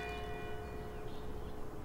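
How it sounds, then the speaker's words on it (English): A single bell tolls to mark three o'clock in the video game Disney's Magical Mirror Starring Mickey Mouse, its ringing tone sustained and fading clearly, with no voices. "With the toll of the bell, it shall be 3 o'clock."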